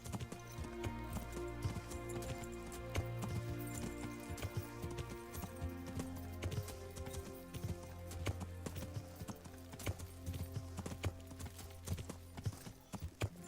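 Steady clip-clopping of horse hooves at a walking rhythm in the video game Kingdom Come: Deliverance, continuous and fairly close, with faint ambient tones underneath.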